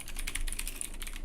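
Steady, fast typing on a computer keyboard, with close, continuous key clicks and no voices.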